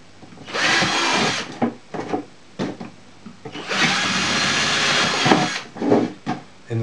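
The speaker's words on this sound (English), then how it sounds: "I've drilled a series of holes" Bursts of drilling into a plastic container for a cheap hydroponics setup, two long loud whirring runs with shorter on-off pulses between them, close and alone.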